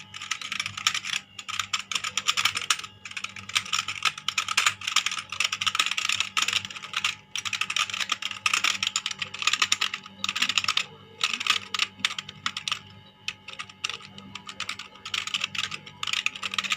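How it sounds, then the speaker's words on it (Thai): Rapid, continuous key presses on a YOUDA T-666 LED gaming keyboard, dense clattery typing as keys are mashed at random, steady and close for the whole stretch with no talking. "ผมจะทดสอบเป็นปุ่มเลขนะกันนะว่า จะมีปุ่มไหนบ้างที่กดไม่ได้นะ"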